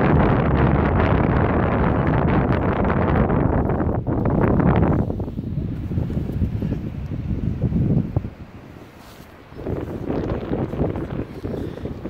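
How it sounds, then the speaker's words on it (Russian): Strong wind buffets the microphone outdoors among subtropical plants in Sochi in February, a loud continuous roar that surges and eases in gusts, briefly dropping away before building again. "Здесь очень сильный ветер"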